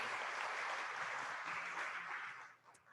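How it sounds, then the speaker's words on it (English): A lecture audience gives steady, dense applause for the event organizers. It holds evenly for about two and a half seconds, then thins out and fades with a few last claps. "they deserve a round of applause because they have done phenomenal work."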